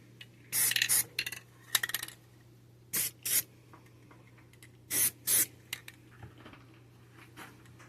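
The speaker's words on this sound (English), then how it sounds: "Spray the last little parts that need to get sprayed." Short hissing bursts of spray paint on a model of a 1965 Barracuda build, several quick blasts in uneven groups with brief pauses and faint handling clatter between, close up over a low steady hum.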